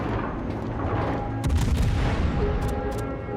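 Naval guns of the Zao heavy cruiser fire in World of Warships, a heavy booming salvo with rumbling blasts that rises midway over a steady background of engine and sea noise, with no talk.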